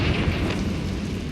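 A Confringo fire spell explodes in Hogwarts Legacy, a short loud burst of low roaring blast with crackling fiery noise that stays dense and full for its brief length.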